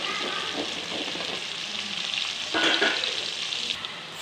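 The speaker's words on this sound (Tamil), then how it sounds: "வெங்காயமும் பூண்டும் நல்லா எண்ணெயிலே நல்லா வணங்கணும்" Onions and garlic fry steadily in hot oil, giving a dense, continuous sizzle close by with occasional stirring scrapes that swell briefly partway through, and no voices.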